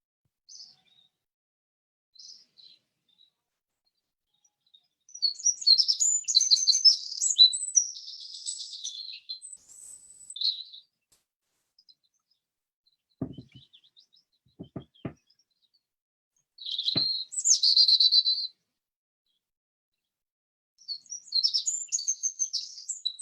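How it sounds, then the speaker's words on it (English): Birds chirp and tweet outdoors during a quiet gathering, with bright bursts of song coming and going amid long near-silent gaps and a few soft low knocks. "Well, it's the birds there."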